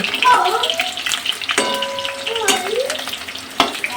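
Hot cooking oil spatters in a pan on a home stove, with crackling sizzle and sharp pops close by, while voices sound faintly in the background.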